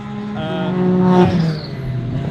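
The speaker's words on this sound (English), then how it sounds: "As he's just gone past, JC's out on track now." A race car passes along a circuit, its engine drone swelling to a peak as it goes by close to the track and then fading, with no talk.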